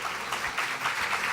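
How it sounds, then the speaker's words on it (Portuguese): Audience applause at the closing session of an innovation congress, a continuous wash of many hands clapping, steady and moderately loud throughout this short moment. "Palmas."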